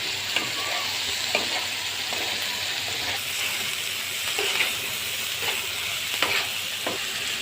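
Liver sizzles steadily as it fries in a pan after a splash of vinegar, with a continuous loud hiss broken by occasional stirring scrapes and crackles.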